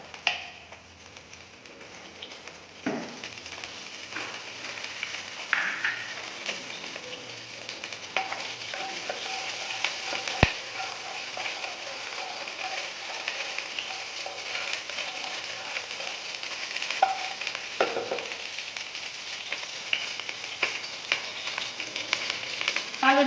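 Kalonji (nigella) seeds spluttering in white oil in a wok, a steady close sizzle with occasional soft crackles and a few utensil taps, no voices, continuous throughout.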